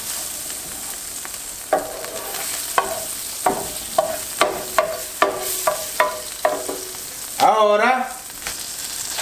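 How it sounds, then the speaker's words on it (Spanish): Egg frying in butter in a pan for Chinese fried rice, a steady close sizzle broken by a regular series of scraping spatula strokes and a louder stir near the end, with a brief spoken word. "le agregamos un poco de mantequilla para que nos ayude a que no se nos pegue el huevo"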